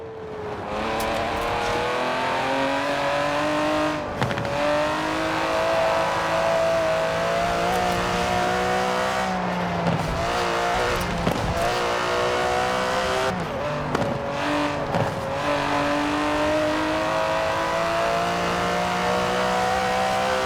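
An Aston Martin DB11's 5.2-litre twin-turbo V12 in Forza Horizon 4 drones loud and steady, its pitch rising through the gears with brief drops at shifts, with no voices over it.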